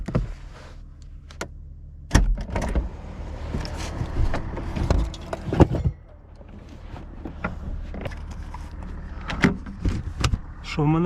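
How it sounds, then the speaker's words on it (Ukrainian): BMW car door and trunk latch clunks with mechanical clicks and a brief motor whir, several sharp thumps spread out, with someone talking intermittently. "Багажник відкритий, машина відкрита."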